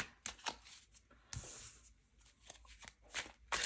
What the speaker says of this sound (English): it's pretty hard for me to shuffle, and I don't typically have problems shuffling decks